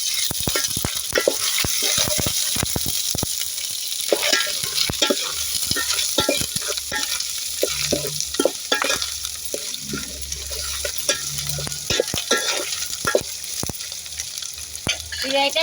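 Ginger garlic paste sizzles loudly as it fries in a pan, with steady hissing and repeated scraping and clattering strokes of a spoon stirring it through the whole stretch.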